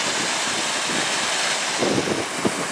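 Reservoir water overflows through a channel on an outdoor walk, producing a steady broadband rush that fills the whole clip, mixed with wind buffeting the microphone.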